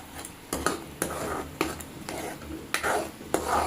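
Egg masala frying in a pan with salt and coriander powder, a spoon scraping and stirring in repeated sharp strokes over a soft steady sizzle.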